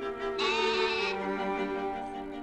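A sheep bleats once in a single sustained, wavering call, close and clear with no voices over it.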